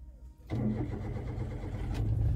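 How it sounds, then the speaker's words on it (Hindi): A standard-variant Maruti Alto 800 car engine cranks and catches abruptly, then settles into a steady, close, loud idle hum with a slight rise near the end. "ये हमने गाड़ी को स्टार्ट किया"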